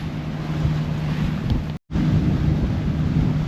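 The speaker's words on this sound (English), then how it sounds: "I don't know where all that wind came from, but it came in quick." Strong wind, about 26 knots on the beam, buffets a sailing boat near Miami, a loud continuous roar of gusts and water rush with a brief dropout midway and no talk.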